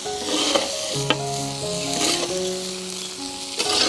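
Three pieces of chicken sizzle steadily as they fry in a pan and are stirred for Attappady-style vanasundari chicken, with the scrape of the spoon close by and no talking.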